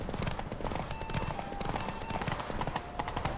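Geralt's horse Roach galloping at full speed in The Witcher 3, with steady rapid hoofbeats close by, alone and continuous under game ambience.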